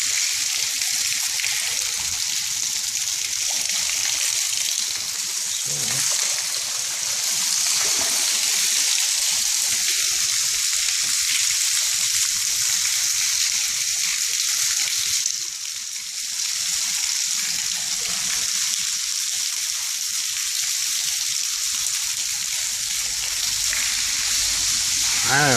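Water leaks from a pipe underground, producing a steady, loud hissing trickle that runs unbroken for the whole stretch, with no voices.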